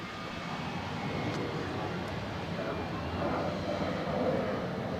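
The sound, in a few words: aircraft taking off at Zurich airport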